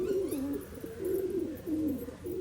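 Pigeons from a domestic pair coo in repeated low, throaty phrases, a steady rolling rhythm close by with brief pauses between calls.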